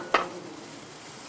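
A utensil knocks once inside a pot of meat and finely chopped onion, then a soft, steady sizzle carries on quietly by itself for about a second.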